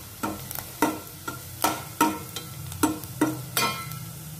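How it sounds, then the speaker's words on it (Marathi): Onion and ginger being stirred and fried in oil for a pomfret fish curry, with a steady sizzle broken by repeated scraping stirs, roughly one every half second, close and alone with no talk. "कांदा व आलं छान परतून घेतलेले आहे"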